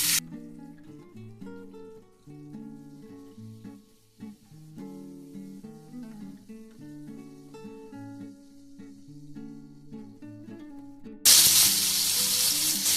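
Chopped tomatoes drop into a hot pan for a Bengali yogurt prawn curry, with music playing first and then a sudden, loud, steady sizzle filling the last two seconds.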